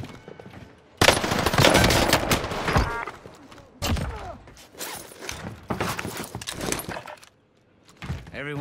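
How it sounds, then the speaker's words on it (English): Automatic gunfire in Call of Duty: Warzone crackles in loud, rapid bursts separated by short gaps, mixed with clinking mechanical weapon handling sounds. "Receiving hostile fire."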